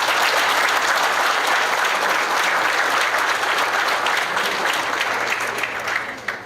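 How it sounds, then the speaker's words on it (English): Audience at a football banquet applauding, a dense, loud, sustained burst of clapping from a sizable crowd that tapers slightly at the end. "Please give Coach Real a round of applause."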